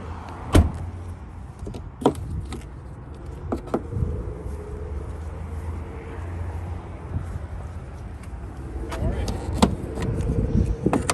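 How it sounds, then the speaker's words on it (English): Hood of a yellow 2006 Hummer H2 SUT popped open: a few sharp metallic clunks and latch clicks spaced across several seconds, loud and close against a steady low background rumble. "Let's pop the hood."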